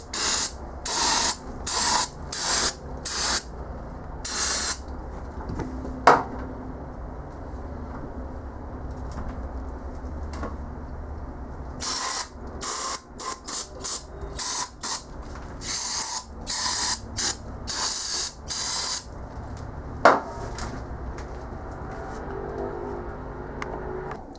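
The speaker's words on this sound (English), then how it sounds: "Now I'm also going to take some brake clean and clean that out." Brake cleaner aerosol sprays onto a bare aluminum cylinder head in a series of sharp hissing bursts, some short and some held a few seconds, with brief gaps between them and a faint background hum.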